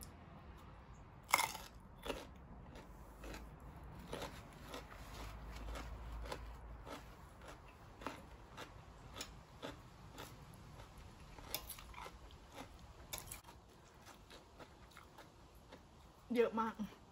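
Crisp, close crunching bites and chewing of a crunchy radish salad with spicy pounded fresh shrimp, irregular sharp snaps scattered over a quiet background with a few louder crunches.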